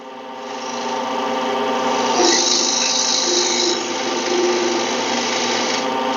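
A woodturning tool sizes down a spinning wood blank on a lathe, starting from the end, with a steady, loud scraping and rasping cut that holds for several seconds and swells midway, with no voices.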